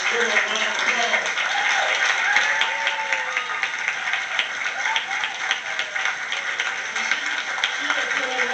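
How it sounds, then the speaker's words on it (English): An audience applauds a guest speaker, Sister Cynthia McKinney, with steady, dense clapping throughout, loud and close, while a voice talks over it. "Give her a round of applause."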